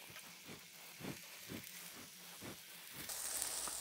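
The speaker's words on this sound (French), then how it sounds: "Là pour l'instant on va le saisir à feu vif dans de l'huile d'olive" Chicken pieces searing over high heat in hot olive oil, a steady sizzle with soft crackles and faint periodic stirring or pan movement, growing slightly louder toward the end.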